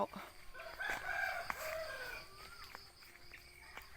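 Chickens and ducks at a Thai morning feeding on banana stalk, with rooster crows and scattered clucks close by, several overlapping calls against a quiet rural background.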